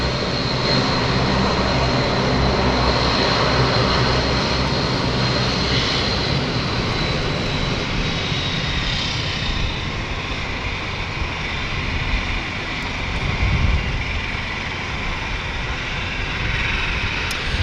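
A British Airways airliner approaches London City Airport with its landing gear not yet down. A loud, continuous jet engine roar holds for the whole stretch with only slight changes in level, and no voices are heard.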